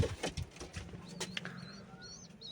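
Pigeons in a loft make soft, low cooing and rustling, with a few brief flaps near the start and faint higher bird calls toward the end, all quiet and close.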